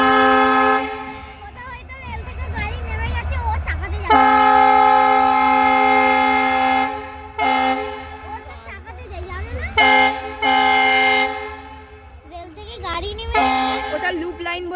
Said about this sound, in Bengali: ওটা লুপ লাইন বলে ওই জন্য অত হর্ন দিচ্ছে।